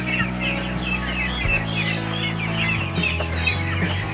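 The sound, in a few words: ducks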